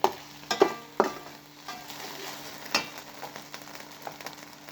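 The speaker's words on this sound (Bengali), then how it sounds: "পেঁয়াজটা একটু ভেজে নেব।" Sliced onion fries with a spoonful of ginger-garlic paste in a pan, a soft continuous sizzle under several sharp scraping stirs and clinks of the spoon, close and fairly quiet.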